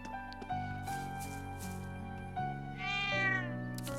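In the Trails of Cold Steel II game, a cat lets out a drawn-out rising meow over steady background game music, with softer tonal sounds around it.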